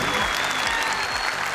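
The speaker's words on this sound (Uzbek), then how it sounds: "chiroyli olqishlaringiz" Audience applause for a singer at a wedding celebration, a steady, dense clapping from a crowd that fills the whole short stretch without letting up.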